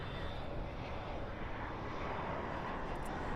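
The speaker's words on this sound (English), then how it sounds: "And there's an Airbus A321." An Airbus A321 airliner at Dallas/Fort Worth International Airport at night, heard as a steady, low, broadband engine roar that stays even throughout, moderately distant and fairly quiet.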